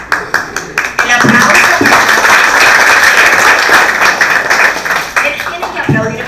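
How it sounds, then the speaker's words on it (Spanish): A studio audience claps steadily for student contestants at the 2015 Guna Yala regional final, a dense, sustained burst of applause that swells and then tapers off near the end. "Tienen que aplaudir a los muchachos para que ellos entren como con emoción"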